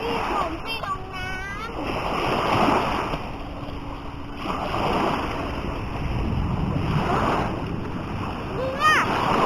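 Splashing and churning water as people wade into the sea on a beach trip, heard close over wind and surf, with voices talking during the splashes.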